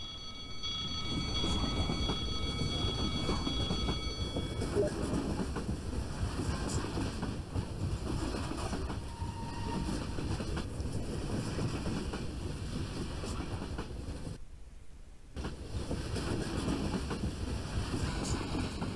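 A train rolls past in Garry's Mod during a WWII roleplay, giving a loud, continuous rumble with rail clatter and a brief tonal squeal early on, followed by a short dropout.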